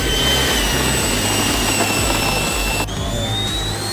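A homemade radio-controlled F-16 model jet flies overhead, its turbine engine roaring in a loud, continuous whine that dips slightly near the end.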